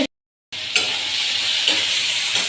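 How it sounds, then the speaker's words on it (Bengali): Loud, close sizzling and hissing of beans, carrot, capsicum, peanuts and potato in a hot pan after a brief silence, with occasional scraping of stirring over the constant fry. "বিনস গাজর ক্যাপসিকাম বাদাম আলু সব দিয়ে ভাজছি"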